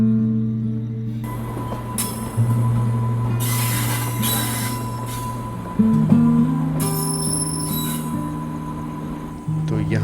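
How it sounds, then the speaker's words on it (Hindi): A train pulls into Khurda Road Junction railway station in Odisha with loud, close, sustained tonal wheel squeals and rail rumble that shift in pitch as it slows. "तो यहाँ पे अराइवल हो रहा है खोरगा रोड जंक्शन रेलवे स्टेशन पे और मेन लाइन पे आके मिल चुके हैं अब हम।"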